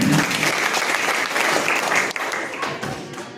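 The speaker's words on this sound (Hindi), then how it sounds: "तालियां साथ में।" Audience applause at a clean family stand-up comedy show in Burari, Delhi, steady dense clapping from a crowd that holds for a few seconds and fades slightly toward the end.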